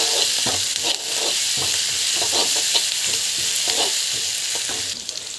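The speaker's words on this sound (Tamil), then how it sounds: "முந்திரி ஆட் பண்ணி முந்திரி போட்டுட்டு நல்லா வந்து வதக்கிக்கலாம்" Cashews sautéing in a pan for a kichdi give a steady, fairly loud frying sizzle with repeated soft stirring scrapes throughout, and no voices.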